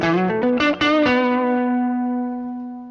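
Distorted electric guitar runs through a Palmer PGA-04 loadbox and cab simulator: a few quick picked notes, then a chord left to ring out and sustain for a couple of seconds, loud and alone with no talking.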